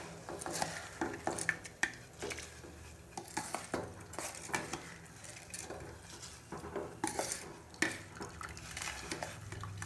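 Rice and lentils tipped into a pot of boiling water for venn pongal, heard as close clattering, rattling and stirring scrapes against the pot in irregular bursts, fairly quiet and with no voice over it.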